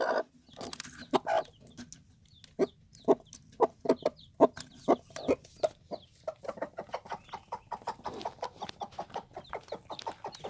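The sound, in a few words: hen clucking with newly hatched chicks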